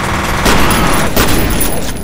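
Gunfire bursts and a grenade blast in the shooter game F.E.A.R., a loud, dense continuous barrage with a heavy boom partway through and no pause.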